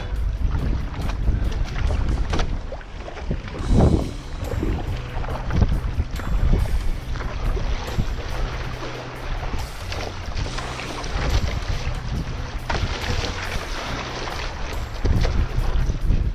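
Steady wind rushing over the microphone while paddling an OC1 outrigger canoe on a downwind run off Hawaii Kai, loud and continuous with water wash beneath and no talk.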